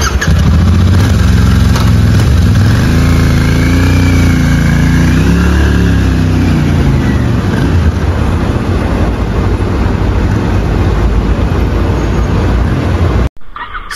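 A Royal Enfield Interceptor 650 motorcycle engine runs steadily up close for most of the clip, a loud continuous throb that rises and eases slightly midway, then cuts off abruptly near the end.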